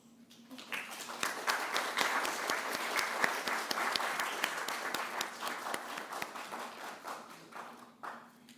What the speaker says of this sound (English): I would like my team to just stand once so that we can give them an applause for the hard work that they have done.